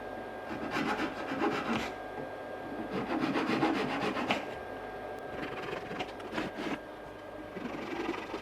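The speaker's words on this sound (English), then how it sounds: "Here I'm using a handsaw to cut the tabs left by the CNC." A handsaw cuts through the small wooden tabs left on a CNC-routed climbing frame part, with repeated rasping back-and-forth strokes in uneven bursts, close up and fairly loud, with no talking.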